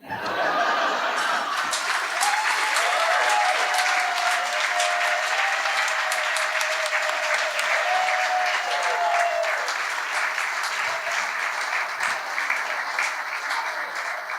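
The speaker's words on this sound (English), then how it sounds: "Let's give the rest of Corey and the rest of Pete's family a round of applause, too." Sustained audience applause fills the room for a family being honored at a storytelling event, steady and loud throughout with a few scattered chuckles and voices mixed in.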